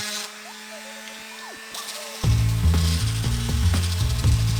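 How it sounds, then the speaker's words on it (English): Scroll saw cutting out a traced wooden sword shape: quiet shop hum at first, then the saw starts up with a loud, rapid mechanical chatter of the reciprocating blade that continues steadily to the end. "I took it over to the scroll saw to cut it out"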